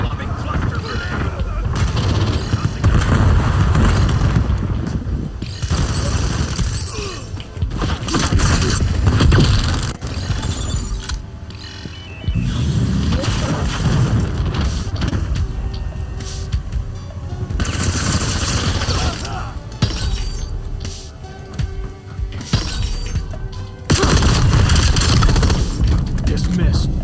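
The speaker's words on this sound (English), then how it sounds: "Lobbing cluster grenade." Cluster grenade blasts in a video game combat scene: repeated heavy booming bursts mixed with rattling gunfire and mechanical clatter, loud and dense throughout, with voices talking over the action.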